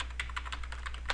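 Rapid, steady typing on a computer keyboard as a command is entered, a run of light clicking keystrokes at close range with no voices.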